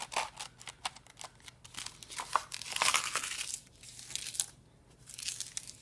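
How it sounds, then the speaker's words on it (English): A sheet of sandpaper folded over by hand gives soft, close crinkling and rustling in irregular bursts, quiet and with no talk. "we're going to take the sandpaper and just fold it over."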